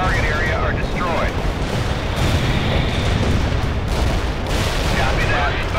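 Artillery shells slam down in World in Conflict, a dense roaring wall of blasts and rumbling debris filling the whole stretch, with radio-style voices briefly cutting through.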